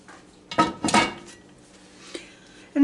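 Venison stew in a cast iron pot gets stirred with a metal utensil, producing a few loud scraping clanks against the pot followed by quieter knocks and a final clatter, with no talking.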